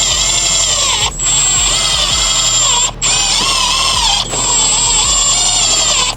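A power drill drives self-tapping screws into a car's front lip, its loud, close whine running in three long bursts separated by brief pauses, with no talking.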